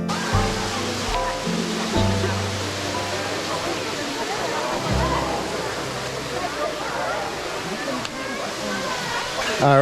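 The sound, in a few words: waterfall in Waimea Valley, Oahu, Hawaii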